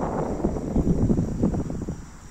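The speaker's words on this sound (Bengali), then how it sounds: "আপনারা অবশ্যই বাতাসের শব্দ শুনতে পাচ্ছেন।" Steady low rumbling wind buffets the microphone on a foggy winter morning at a riverbank, a dense, fluctuating roar with no voices.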